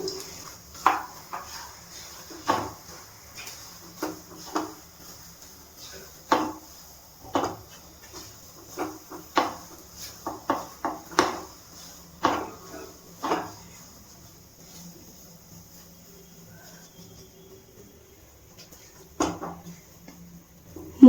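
Moong dal halwa with cashews and raisins being stirred in a pan, a spoon scraping and knocking against the metal in irregular clatters with quiet pauses between, over a faint steady hiss from the stove.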